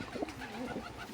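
Soft pigeon cooing, a low, brief throaty murmur close by with a faint background hum.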